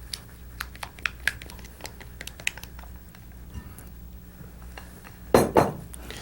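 A utensil folding sour cream into pastry dough in a bowl, light irregular clicks and taps on the bowl followed by a louder scraping clatter near the end.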